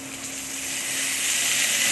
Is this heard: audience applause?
no